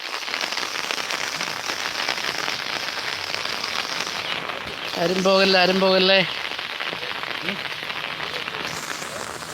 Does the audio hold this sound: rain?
yes